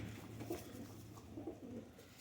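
Kasuri high flyer pigeons coo softly in a loft, a couple of low rounded calls rising over steady background hum.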